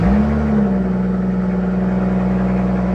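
BMW engine rumbling steadily through a new Borla ATAK exhaust, a loud, close, deep drone that holds even with a slight settling in pitch early on.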